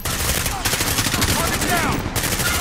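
Suppressive gunfire in the video game Call of Duty Modern Warfare (2019), a dense, continuous burst of rapid automatic shots, loud and close, with brief shouted voices in the mix.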